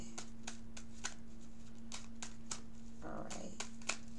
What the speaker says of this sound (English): I think that that's enough shuffling